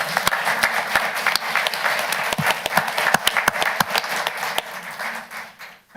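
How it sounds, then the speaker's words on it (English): People at a Kershaw County Council meeting give a round of applause: scattered, distinct hand claps from a modest crowd that continue for a few seconds and then taper off. "Can we have a round of applause for John?"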